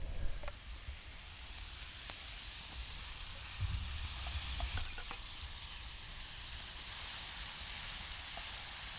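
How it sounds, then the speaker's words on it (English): Beef and sausage sizzle in a pan over an outdoor fire, a steady faint frying hiss with occasional small pops and crackles, no voices. "I'll just add the beef now that the sausage has had time to cook down."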